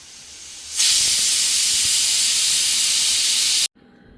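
A loud, steady hiss of steam bursting from a pressure cooker whistle while boiling green chickpeas, holding for about three seconds before cutting off abruptly.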